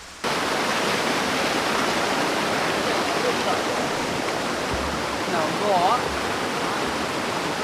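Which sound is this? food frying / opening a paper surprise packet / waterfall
waterfall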